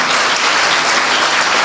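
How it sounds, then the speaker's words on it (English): An audience at a business expo held by Dawoodi Bohra women gives the event organizers a round of applause, a loud, continuous wash of clapping throughout. "can you give a big round of applause to all the organizers of today's event?"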